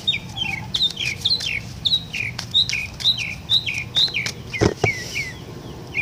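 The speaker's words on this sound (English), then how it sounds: "I know you hear those birds, right?" Repeated bright, descending bird chirps in a quick rhythmic series, fairly close, with a few sharp clicks and thumps mixed in.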